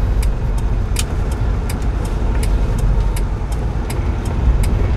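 A car driven by a learner during a Korean driving-licence lesson gives a steady, close engine rumble from inside the cabin as the gas pedal is pressed, with light regular ticks above it and no talk.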